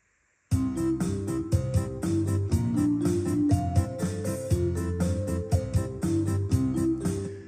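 Yamaha PSR-SX920 keyboard multipad playing a full accompaniment with the guitar part set off chord match, so it holds one fixed note while the other parts follow the chords; a dense, steady groove with regular beats, loud and close, no talking.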